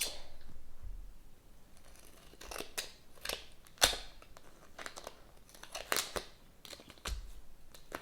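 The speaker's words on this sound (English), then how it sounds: "you're going to want to peel off your tape from the parchment paper and cut around it" Scissors snipping around a tape sticker on parchment paper, a series of quiet scattered cuts mixed with crinkling and rustling of the paper, close by and without voices.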